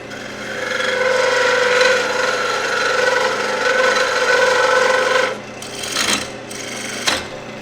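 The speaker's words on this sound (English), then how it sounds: "I'll cut the bottom part off on my bandsaw." A bandsaw rasps steadily through the bottom of a turned wooden ring holder for about five seconds, loud and close, then the blade runs free with a couple of brief scraping touches.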